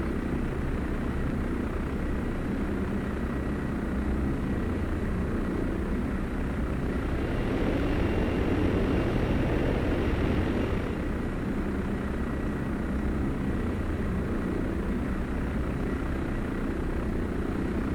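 Engines of a German bomber drone steadily in a video game, a continuous, loud, even rumble that swells briefly midway and then settles back.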